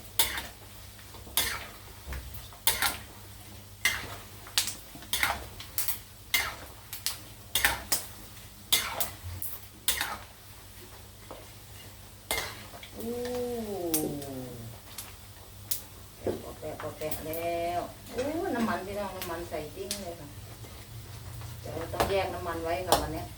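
Pork rinds fry in oil for Thai khaep mu, with sharp scattered crackles and pops over a low bubbling hiss, along with some utensil clatter. Someone talks over it in the second half.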